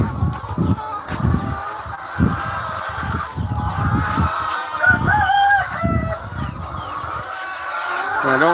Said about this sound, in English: The birds are hungry.